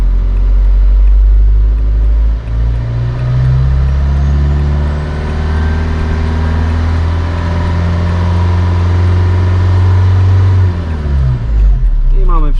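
A car engine idling and then revving up gradually with the blower and other electrical loads switched on, a loud, close, steady drone rising in pitch before dropping back.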